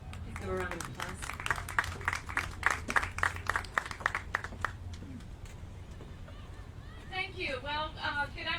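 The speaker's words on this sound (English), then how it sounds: "Please give a round of applause." Audience at an evening ceremony for the Traveling Tribute Wall in Tampa, Florida, breaking into a few seconds of scattered applause and clapping, followed by a voice at a microphone as it dies away.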